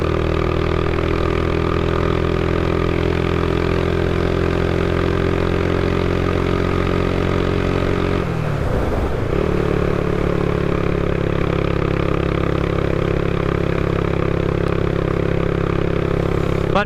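A 1990 Honda GB500TT with its single-cylinder engine idles steadily and loudly nearby, holding an even throb for the whole stretch apart from a brief dip in the middle.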